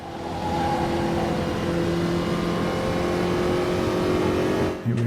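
A Formula Vee race car engine in the racing game Automobilista drones steadily at fairly constant revs through corners, loud and close, then dips briefly near the end.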